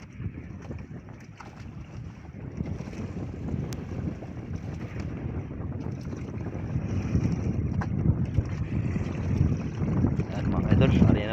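Gusty wind from an approaching squall at sea rumbles and buffets the microphone, growing stronger toward the end, with faint talk underneath.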